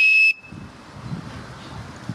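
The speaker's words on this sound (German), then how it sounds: "Und dann hilft dir die Pfeife. Ich probiere die mal kurz aus." A survival armband whistle gives one short, shrill, very loud blast at the start, lasting about a third of a second before cutting off to quiet background.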